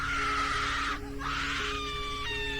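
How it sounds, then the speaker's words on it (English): A shrill, sustained scream of agony from a woman in the torment of childbirth, held loud and close across the whole stretch with a brief dip midway, set over a low droning background. "A scream rent the air."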